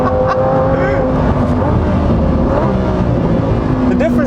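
A 2021 Lamborghini Huracán STO driven fast on a race track roars loudly and continuously, its engine note rising and shifting with gear changes, heard close up from inside the car.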